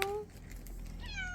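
A cat in a Greek mountain village meows twice nearby, a short call at the start and a longer rising meow near the end, with quiet outdoor background in between.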